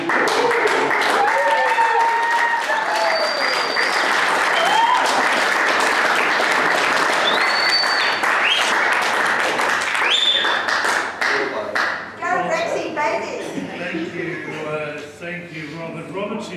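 A loud, rousing round of applause from the audience at an Australian six-red snooker final, steady and sustained before thinning out into scattered claps with voices mixed in.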